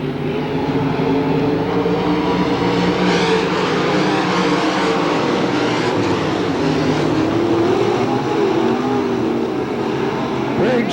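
Race cars in a green-flag dirt-track race at Hamilton County Speedway in Webster City, Iowa, making a continuous loud engine roar with rising and falling passes.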